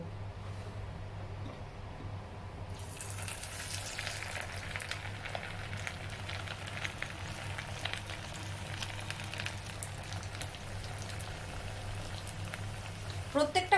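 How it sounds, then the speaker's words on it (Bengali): Food deep frying in hot white vegetable oil gives a steady bubbling sizzle throughout, with a constant low hum underneath and brief clatter near the end. "সাদা তেলে দু পিঠ ভালো করে ভেজে নেব"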